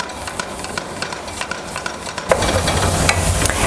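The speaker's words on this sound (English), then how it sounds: "Just browning the beef over here on about a medium to medium high fire." Ground beef browning in a pan over medium to medium-high heat for tacos, a steady close sizzle with intermittent scraping stirs, growing louder and fuller partway through.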